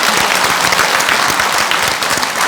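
Sustained applause from a seated audience at a regional-depopulation special-law symposium after a professor's lecture, dense clapping filling the whole stretch without a break.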